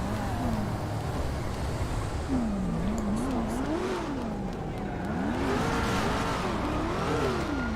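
Cars racing around in GTA V, with engines revving up and down in wavering sweeps over a dense, loud bed of traffic and street chaos, steady throughout.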